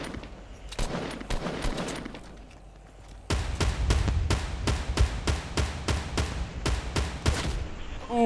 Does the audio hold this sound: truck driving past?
no